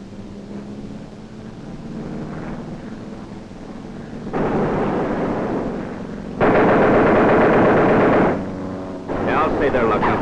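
A waist gunner on a World War II bomber fires a machine gun in long, sustained loud bursts over steady engine drone, growing heavier toward the end, with no voices.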